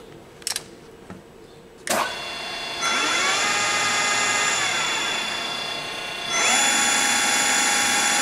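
A used Willis-Bergo radial drill with a 4-foot arm and 12-inch column spins up after a couple of clicks, settling into a steady, loud motor whine with high tonal hum that rises further near the end.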